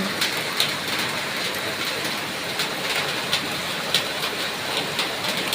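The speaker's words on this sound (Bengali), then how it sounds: "লাইভ করতে করতে দেখি ঝমঝম করে বৃষ্টি পড়ছে" Heavy rain pours down outside, a dense, steady hiss with faint pattering drops that holds loud and unbroken from start to finish, with no voices.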